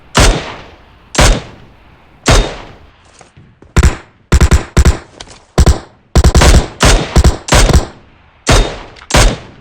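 Gunfire in a battle royale mobile shooter, loud sharp shots fired singly and in quick bursts at irregular intervals, close and dominant with no talk.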